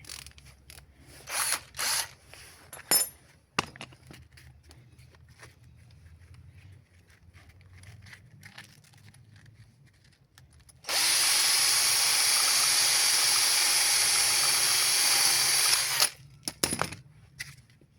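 A power drill with a sanding attachment grinds steadily and loudly for several seconds against a rusty wheelchair axle bolt, preceded by scattered metallic clicks and handling knocks, then stops abruptly.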